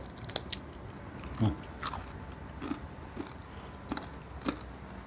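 Crunchy fried bones, part of a Thai-Lao spicy salad, bitten and chewed close by in a quiet room, several sharp cracking crunches spread over a few seconds between softer chewing.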